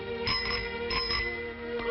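A bicycle bell rings in quick repeated dings, two pairs of bright strikes over a hissy, humming old-film background.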